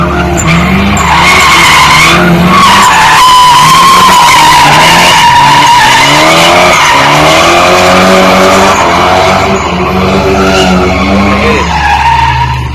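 A car drifts at a truck stop with worn-out tires, squealing loudly and continuously while the engine revs and wavers beneath the screech, close and intense throughout.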